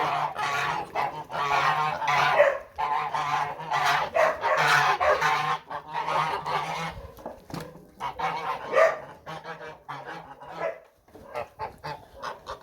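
Grey geese and a white-breasted goose honk close by in loud, repeated bursts and overlapping calls, broken by short pauses, with a quieter stretch near the end.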